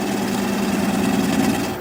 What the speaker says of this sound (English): Now I'm going to take a 3/8 inch swept back bowl gouge so that I can get in there a little closer.